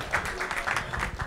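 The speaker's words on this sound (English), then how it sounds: "Please applause." A small audience applauds at a startup pitch competition semi-final, a brief stretch of steady, moderately faint clapping.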